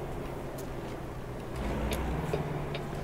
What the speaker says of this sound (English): It's a good old truck. It sounds beautiful.